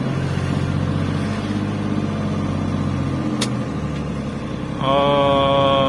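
An overloaded truck carrying 50 bags labours up a steep slope, its engine droning loud and close with a low throbbing rumble that drops and then shifts into a higher, tonal whine near the end.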